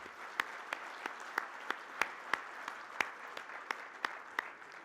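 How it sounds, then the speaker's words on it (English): An audience at a chefs' association conference claps steadily, a sparse, even round of applause from a modest crowd, moderately close, with no voices. "I would like all of you to give them a big applause"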